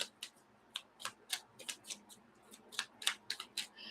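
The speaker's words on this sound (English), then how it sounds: "I shuffled these cards." Tarot cards are shuffled by hand in a quiet room, producing a quick, uneven series of crisp snaps and flutters, close and fairly soft.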